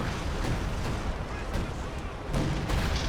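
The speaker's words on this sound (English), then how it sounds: "Wow, there's a lot of artillery coming down." An artillery barrage in the Company of Heroes 2 video game rumbles as a dense, continuous wash of booms and blasts, loud and close, with scattered sharper impacts.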